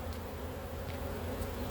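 Honeybees buzz at an open beehive during a hive inspection, a steady close hum of many wings filling the short moment without speech.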